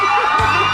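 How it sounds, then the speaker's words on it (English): A crowd cheers and shouts together in a brief, loud, dense burst of excited voices and whoops that lasts under a second. "The crowd gets into it."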